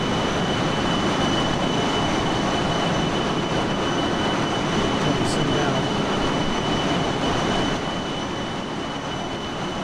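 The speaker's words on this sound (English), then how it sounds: "Those little Spey engines out there are working." Rolls-Royce Spey jet engines on a Fokker F28 in Microsoft Flight Simulator 2020 give a loud, steady broadband roar with a faint high whine, unbroken throughout.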